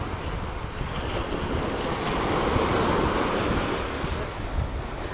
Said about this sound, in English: That's the ocean now.